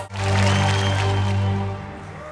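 Applause from an audience at a Goafest 2022 event, a full, sustained wash of clapping that swells quickly and holds steady, with a low tonal hum running beneath it.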